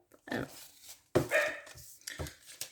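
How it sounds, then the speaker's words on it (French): Female dogs barking around six in the evening in a residential neighbourhood: a few sharp, close barks in quick bursts with gaps between, mixed with a person talking over them. "vous allez entendre mes chiennes"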